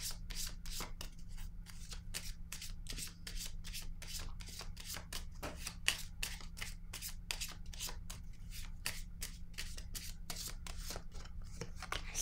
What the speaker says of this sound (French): Je vais déposer une carte sur ces trois-là.